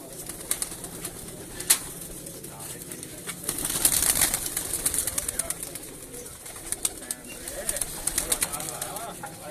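Breeder pigeons on a city rooftop, cooing steadily in soft, low, overlapping burbles with occasional sharper chirps and wing rustles, a bird chorus close by and continuous throughout.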